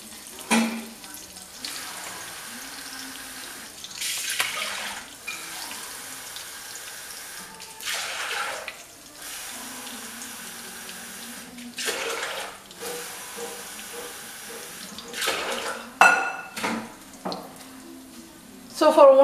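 Water runs and splashes in bursts into a nearby pot for cooking rice, with broadband gushes separated by quieter pauses, a few clinks toward the end.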